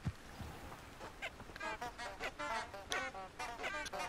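Odd honking, warbling calls from magical flowers in the video game Hogwarts Legacy, faint and repeated in short bursts against a low background.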